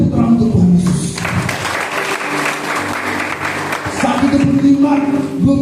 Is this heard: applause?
yes